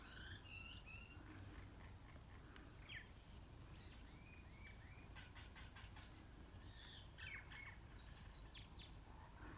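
Garden birdsong with assorted chirps, tweets and short whistled phrases scattered through a faint, steady outdoor background, the calls fairly distant and soft, with no voices.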